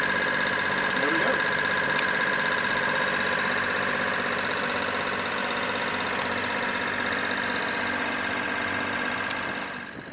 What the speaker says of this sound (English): so we're having to motor sail yet again.